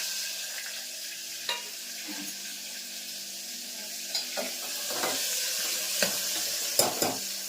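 Stuffed bitter gourds fry in hot oil with mustard seeds, cumin and fenugreek powder, giving a steady close sizzle broken by several sharp scraping stirs of a spoon against the pan; no voices.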